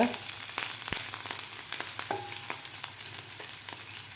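Chopped green chilies, curry leaves and a pinch of asafoetida frying in hot oil crackle and sizzle steadily, with sharp spatters and occasional stirring clicks close by and no voices.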